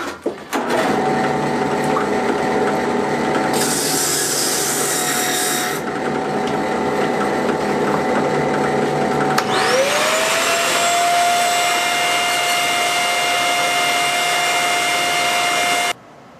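Drill press and shop vacuum running together while polishing peristerite stone from the Crystal Lake Mine through grits, a loud steady motor whine with a pitch shift midway, continuous and close.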